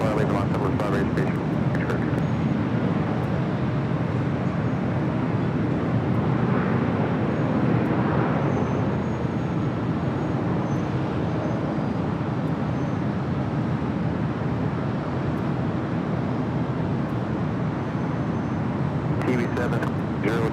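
Southwest Airlines plane departing LAX, a steady broad jet roar that holds for about twenty seconds at an even level, heard from a distance with wind on the microphone.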